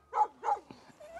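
A young bull terrier barks twice in quick succession during a dog-training session, sharp and close, followed by a faint whimpering yip.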